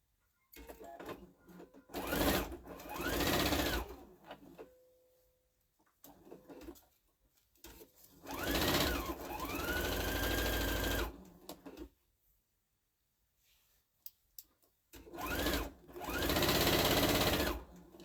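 Domestic sewing machine stitching straight across a Christmas tea towel fabric strip at a quarter-inch seam, running in several steady whirring bursts separated by pauses, close and fairly quiet.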